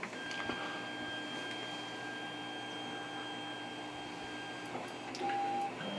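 A 3D printer prints PLA filament with a steady mechanical hum and whine, stepper motors holding sustained tones and shifting pitch in short moves. A faint beep sounds near the end, and no one talks.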